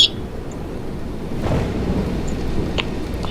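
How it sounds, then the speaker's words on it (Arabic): Thunder from a strong lightning storm rumbles low and heavy amid steady rain, swelling midway and holding loud and close, with a brief sharp crack at the start. "البرق بيضرب جامد بشكل كبير"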